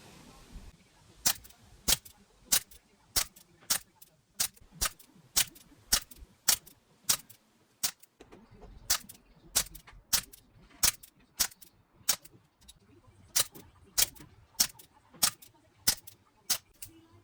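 A Chiappa Rhino 60DS CO2 air pistol shoots 4.5mm pellets in a long steady string of about two dozen sharp, snappy pops spaced roughly two thirds of a second apart, with a brief pause midway and quiet handling noise between shots.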